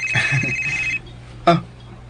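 A cellphone rings indoors with an electronic tone, one long ring followed by a short second burst after a pause, close and fairly loud with no talking over it.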